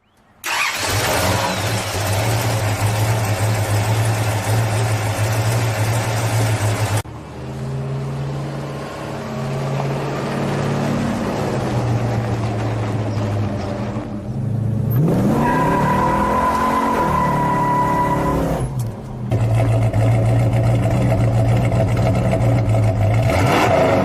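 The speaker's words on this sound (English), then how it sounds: "The Dodge Super B wasn't just another muscle car." Dodge Super Bee muscle car engine, a loud rumbling V8-style idle and revving in several separate segments with cuts between them, a deep steady low growl, no talk.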